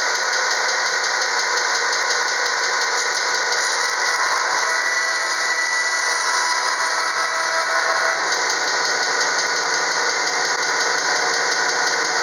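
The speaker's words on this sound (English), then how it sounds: "Just going to go ahead and cut at my lines at the bandsaw." Bandsaw cutting through deer antler, a continuous loud whirring drone with a steady buzzing rattle, unbroken for the whole stretch, no talk.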